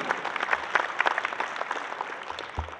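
Audience applause at the opening of a dairy expo (Expo Leche) honoring the president of a milk producers' association, moderate rippling claps that stay fairly even throughout.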